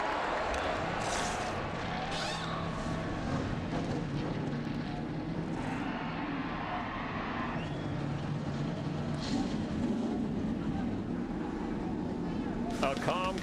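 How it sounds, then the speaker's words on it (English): Stock car engines fire up at Talladega for the 2011 Aaron's 499, a broad, steady rumbling roar with distant crowd noise and a voice speaking over it. "Gentlemen, start your engines."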